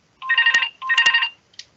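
A mobile phone rings in a parliamentary assembly chamber with two bright electronic ringtone bursts and the start of a third, clear and prominent with no talking over it.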